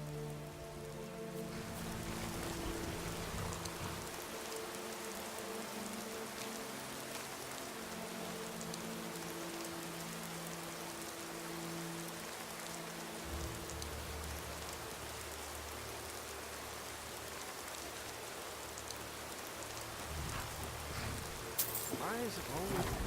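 Steady rain in the video game Skyrim pours down continuously, a dense hiss of drops on surfaces, with a low droning hum underneath throughout.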